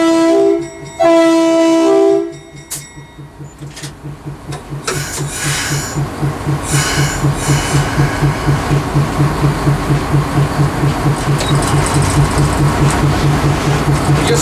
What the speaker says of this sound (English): This is a 44-ton Bobo General Electric engine